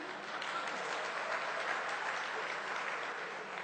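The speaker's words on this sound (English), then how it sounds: "You've got to clap for saying nothing, actually." An audience applauds during an onstage conversation, a short, dense and even round of clapping at moderate volume with no speech over it.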